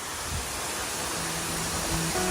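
A jungle waterfall in Palau pours down in a steady, close, full rushing roar of falling water that fills the whole clip, with no voices.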